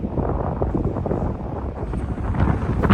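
Strong, gusty wind blows steadily at an airport on a very windy day, a loud continuous rumble and buffeting close to the microphone with no other clear sounds.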